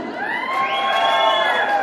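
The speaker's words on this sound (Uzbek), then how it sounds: "Bir qaytadan qarsaklar bo'lsin." Wedding guests at a Turkmen celebration in Istanbul cheer and whoop for the dancers, a dense, steady crowd roar with shrill rising voices that holds loud and continuous throughout, with no clear applause claps standing out.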